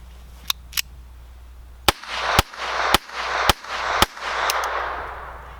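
Several sharp gunshots from a small Raven .25 ACP pocket pistol fired at close range, the first pair quicker and lighter, then a steady run of louder cracks roughly half a second apart, each trailing into a brief echo.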